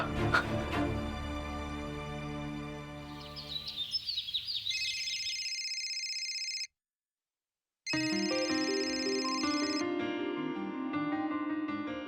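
A phone ringtone plays with a chirpy, tweeting melody in repeated bursts, first mixed with background music and then alone, cut by a brief silence before it resumes loudly and steadily.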